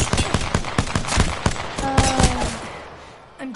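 Video game gunfire in a rapid string of sharp cracks, irregular and fairly close, thinning out toward the end, with a few faint tonal beeps mixed in.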